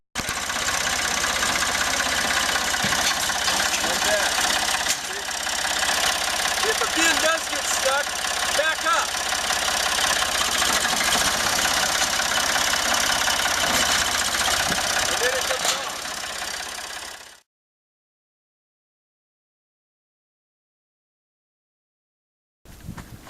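A tractor engine runs loud and steady for about seventeen seconds with a rough, knocking idle, then cuts off into silence before a brief sound returns at the very end.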